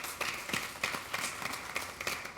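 Studio audience applause for a district team at a televised quiz show, scattered hand claps in uneven bursts, faint and somewhat distant, with no talk over them.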